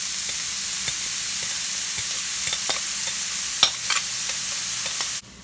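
Rice sizzles and fries with garlic in a hot pan for a keto chicken-and-rice dish, a steady soft hiss broken by scattered crackles and a few stirring scrapes, with no voices.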